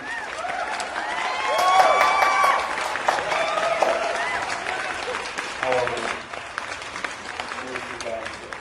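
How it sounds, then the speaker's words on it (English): Audience applause welcomes a guest onto a talk-style show about immigration in the United States, a steady wash of clapping that swells briefly with voices and cheering mixed in before tapering off. "Please give an applause to our first guest,"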